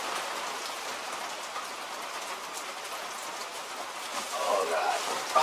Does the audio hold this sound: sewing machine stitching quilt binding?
no